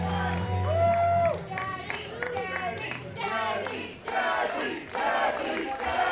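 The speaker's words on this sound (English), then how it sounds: "Crowd here showing their love and support for Jazzy Yang" Crowd at an extreme wrestling show in Atlanta cheering and shouting for wrestler Jazzy Yang, bursts of yelling and clapping that rise and fall, with a commentator's voice talking over the noise.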